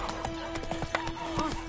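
Hoofbeats of Roach, the horse in The Witcher 3, clip-clop in quick rhythm, with a whinny rising over them near the end, all against steady game music and ambience.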